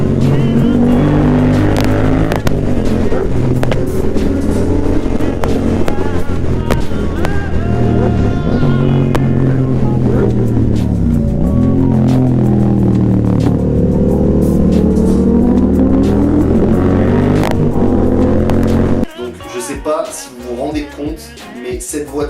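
Lamborghini Huracan Performante engines roar loudly and continuously while driving, with rising and falling revs and gear changes, close and dominant, before cutting abruptly to quieter wind-buffeted road noise near the end.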